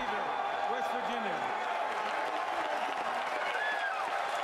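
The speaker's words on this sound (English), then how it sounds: "Listen to this crowd." A crowd at the 2015 NFL Draft cheers and applauds the Chicago Bears' seventh pick, a dense, sustained roar of clapping and shouts, with a voice talking over it.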